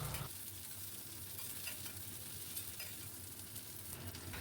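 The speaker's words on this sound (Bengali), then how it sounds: "অল্প একটু সময় ধরে নাড়িয়ে নেব।" Fried potato and bitter gourd being stirred in a pan, a continuous soft sizzle of frying with faint spoon movement, steady and close, no voices.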